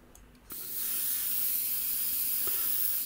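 A short burst of flat varnish spraying onto a 1/48 scale Eduard Focke-Wulf Fw 190A-8 model aircraft, a soft steady hiss that starts after a brief pause and holds for about two and a half seconds before stopping.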